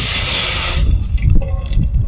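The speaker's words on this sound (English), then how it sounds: "I'm gonna get some water on for a cup of tea." Water being poured into a pot or kettle at a solo bikepacking camp, a steady splashing rush in the opening second that gives way to a few quieter trickles and drips close by, with no talking.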